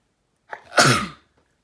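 A single sharp sneeze from one person, a short intake followed by a burst that fades within half a second, alone in an otherwise quiet room.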